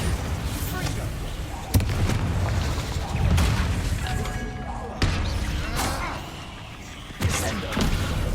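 Repeated Confringo and Bombarda spell blasts in the Hogwarts Legacy game, loud booming impacts at irregular intervals over dense battle noise, with a voice speaking between them.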